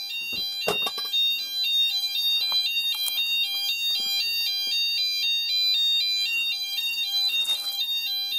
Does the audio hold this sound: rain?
no